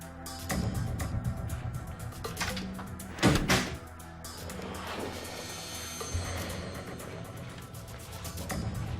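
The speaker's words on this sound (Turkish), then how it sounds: "Kapat kapıyı odan Bey, kapat." A door being shut indoors, a single firm thump standing out amid a busy background of room noise and clatter.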